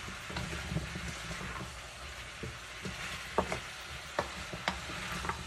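Squash and green beans simmer in coconut milk as a spoon stirs the pot, giving a soft, steady bubbling hiss with a few light scrapes and knocks near the end.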